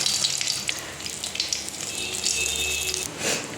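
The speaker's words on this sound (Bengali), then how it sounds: "এবার এই তেলের মধ্যে দিয়ে দেবো দেখো একটা তেজপাতা, একটুখানি গরম মশলা আর গোটা জিরে" A torn bay leaf, a little garam masala and whole cumin seeds fry in hot oil in a home Bengali kitchen, giving a close, continuous sizzling hiss with light crackles and no speech.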